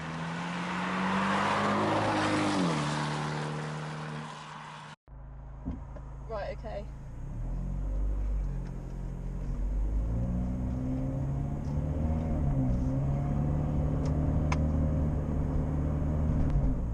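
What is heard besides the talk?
sports car engine and exhaust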